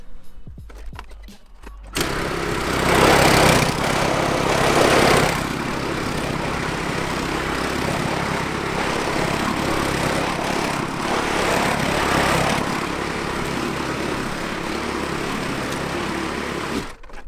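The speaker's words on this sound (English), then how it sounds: "get the mower out to pick up the last bits and get onto that fertilizer stage" Lawn mower running over a freshly scarified lawn to pick up leftover debris, a loud steady close engine drone that starts after a brief clatter and carries on continuously with slight surges.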